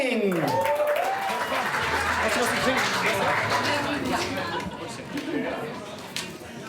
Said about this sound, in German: bitte macht einen großen Applaus für Katrin Wessling!